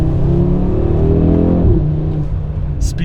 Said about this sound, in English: The exhaust has been tweaked a bit louder apparently.